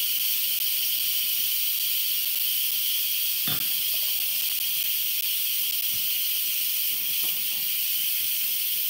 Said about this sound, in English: Let the steam escape from your Instant Pot.